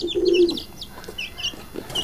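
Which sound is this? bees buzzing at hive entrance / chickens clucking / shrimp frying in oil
chickens clucking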